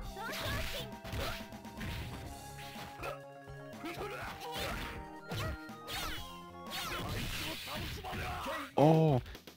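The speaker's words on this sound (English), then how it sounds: "there's even a glass-shattering sound effect when you die" A glass-shattering crash marks a character's death in the Garou fighting game, breaking through busy in-game music, hits and whooshes.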